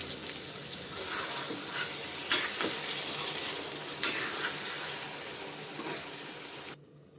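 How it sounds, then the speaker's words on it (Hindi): Okra (lady finger) sizzling in a pan of spices with a little water added, a dense steady frying hiss with a couple of sharp pops and stirring scrapes, close up, ending abruptly. "मसालों में भिंडी डाल करके मैंने अच्छे से भून लिया है।"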